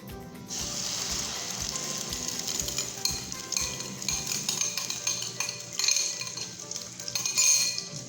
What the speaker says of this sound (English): now it's time to cook our eggs